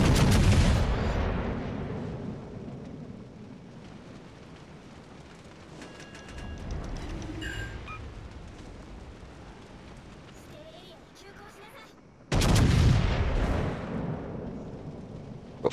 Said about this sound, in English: I'm shooting at them. They're shooting me.